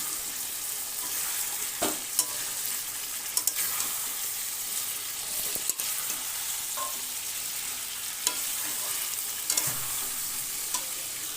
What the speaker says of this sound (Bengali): মাংসের সাথে আলু ভালো করে কষিয়ে নিলাম।